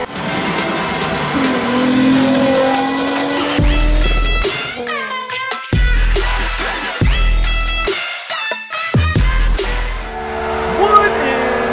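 Tires squeal as a BMW E46 drifts and jumps on an airport map in CarX Drift Racing, with high pitched screech over a revving engine that cuts in and out in bursts, loud and close throughout.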